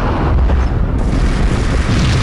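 Loud gunfire and blasts from the video game Max Payne 3, shooting out lasers in a dense, continuous barrage of booming, rumbling shots that fill the whole moment.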